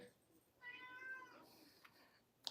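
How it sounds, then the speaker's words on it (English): A pet cat gives one clear, drawn-out meow, close and fairly quiet in a calm indoor room, followed by a faint bump. "That's my cat."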